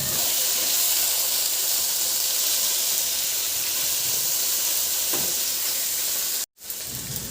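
Chopped tomatoes cooking with bitter gourd and onion in a pan give a steady, close sizzling hiss with no talk. The sound cuts out briefly near the end and then returns.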